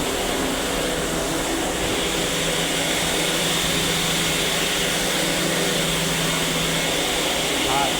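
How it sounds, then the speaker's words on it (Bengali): Textile machine running steadily with polyester fabric turning inside, a continuous broadband mechanical roar and hum throughout, loud and close, with talk faintly present. "মেশিন কাপড় ভিতরে ঘুরতেছে"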